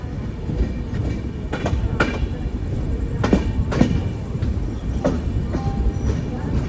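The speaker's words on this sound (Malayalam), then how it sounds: "ഇവിടെ തന്നെയാണ് പ്ലാറ്റ്ഫോം നമ്പർ 1 നമ്മുടെ ട്രെയിൻ വന്നുകൊണ്ടിരിക്കുന്നത്." The Sampark Kranti Express pulls into platform 1 at Gwalior with rolling rumble and repeated clickety-clack wheel beats, close by, while a person talks.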